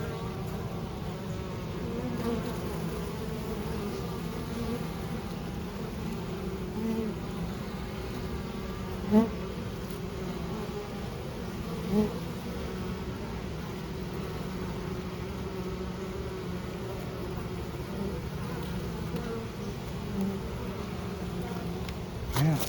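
A colony of honeybees in a hive box hums steadily and continuously, a dense close buzz with occasional faint knocks, no talking over it.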